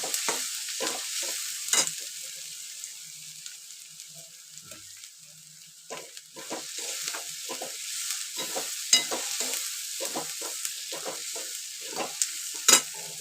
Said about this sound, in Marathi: ती हळद टाकायची थोडी तेलामध्ये भाजली पाहिजे